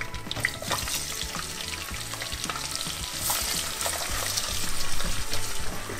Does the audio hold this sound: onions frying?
yes